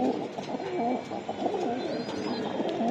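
Pigeons, including a black female, coo repeatedly at close range in a loft among Budapest, Dragon, Huma and racer breeds, their low rolling, warbling calls overlapping in a steady murmur with faint background hiss.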